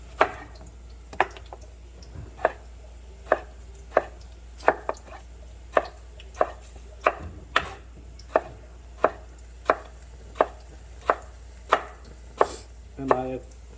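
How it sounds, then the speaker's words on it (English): A knife thinly slicing tomatoes on a cutting board, a close, even series of about twenty crisp board taps at a steady rhythm, no talking. "I'm going to thinly slice these tomatoes."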